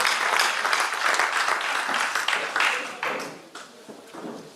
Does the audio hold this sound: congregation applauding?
yes